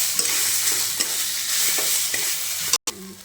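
Papaya stirred and frying in ghee in a pan, with a steady sizzle and scraping stirs of a spoon running continuously throughout, briefly cut off near the end.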